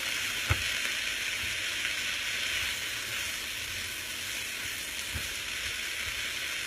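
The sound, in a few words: garlic and soy sauce sizzling in a stir-fry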